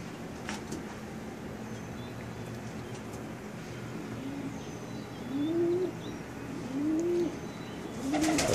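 Racing pigeons in a deep-litter loft coo in several low, rolling calls, three distinct coos rising toward the end over a steady ambient hum, near and moderately loud.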